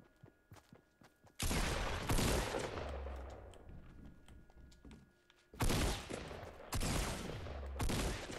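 Rapid bursts of gunfire in the video game Fortnite, loud sustained volleys breaking out after scattered footsteps and thuds, then two more dense bursts near the end.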